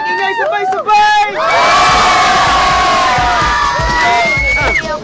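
A live Makati audience at a junior rappers' performance roars together in loud, sustained cheering and shouting, with whoops rising over the crowd noise; a voice calls out just before the swell.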